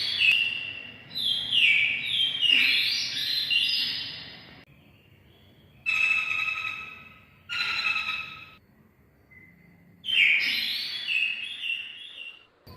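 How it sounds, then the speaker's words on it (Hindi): Recorded bird calls play from a push-button bird light installation in an evening garden near Sukhna Lake, Chandigarh: bright chirping and warbling bursts in several separate phrases with short silent gaps between them, clear and fairly close. "ये प्रेस किया, ये पंछी का लाइट जल गई, जिसमें पंछी की आवाज़ है इसमें बस।"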